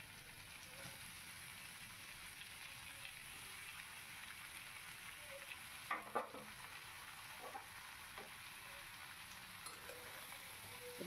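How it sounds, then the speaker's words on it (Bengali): Bottle gourd frying in a pan with fried potatoes and mung dal, giving a quiet, steady sizzle with a few light scrapes and clinks from stirring, plus a brief cluster of knocks in the middle and no talk. "এরকম পর্যায়ে আমি লাউ দিয়ে দিলাম"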